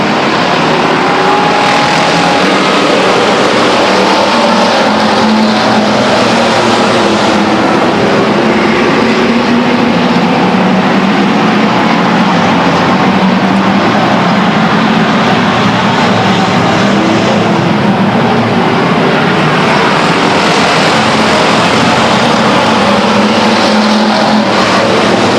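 Pack of stock cars at Stockton 99 Speedway roaring together as they line up for a race start, a loud sustained engine drone that swells and surges throughout.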